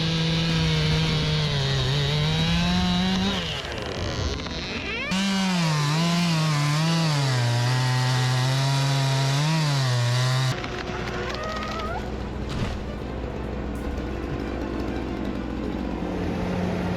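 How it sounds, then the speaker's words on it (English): A big chainsaw bites through a thick tree trunk, its engine screaming loud and steady with pitch dips and surges as the chain bogs and recovers in the wood, then settling to a rougher, lower drone. "Its sharp chain slices cleanly through thick trunks"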